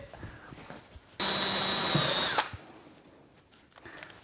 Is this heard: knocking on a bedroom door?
no